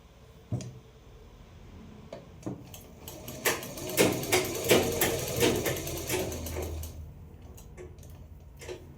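A sewing machine stitches around a corner of a kaftan neckline, starting with a few isolated clicks, then running in a steady rapid burst before easing back to sparse ticks.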